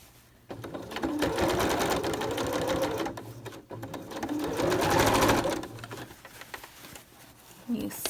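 A sewing machine stitching a cloth mask with back-stitching, running in two long loud bursts with a brief stop between, its rapid needle chatter close up.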